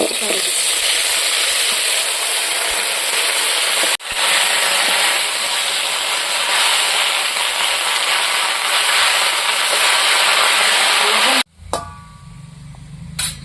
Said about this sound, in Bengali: এখন এই সর্ষে শাকটা ভাজি নেব